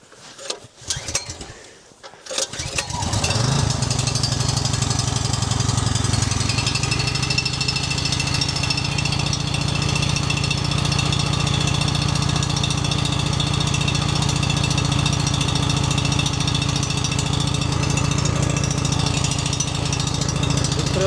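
A Zegor inverter generator is started: a few rough cranking pulls and sputters, then the engine catches and runs with a loud, steady drone close by, without any talk.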